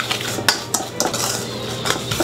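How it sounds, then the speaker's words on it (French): Small whisk beating breadcrumbs, salt, pepper and egg in a bowl, quick metallic clinks against the bowl in an uneven rhythm, close and clear with no talking. "Petit fouet et on mélange."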